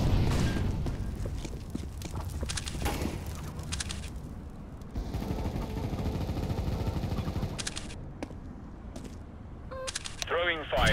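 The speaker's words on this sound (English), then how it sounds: "Throwing flashbang." A flashbang grenade thrown in the Counter-Strike: Global Offensive video game, with heavy continuous gunfire and explosive bursts filling the scene, sharp cuts between loud passages, and a whining high sweep near the end.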